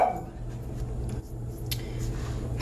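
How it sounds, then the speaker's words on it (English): Indoor dog barking, a few short yaps over a steady low room hum, with no one talking. "oh my gosh, I'm so sorry about my dog."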